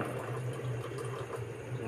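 Water poured into a cooking pot while making Ilocos longganisa, a steady close splashing, filling rush lasting under two seconds, with no talking.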